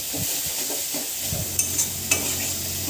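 Potol dorma stuffing frying in a pan, a steady broadband sizzle with the soft scrape of a spatula stirring in several short strokes, plus a couple of sharp metallic taps, close and alone.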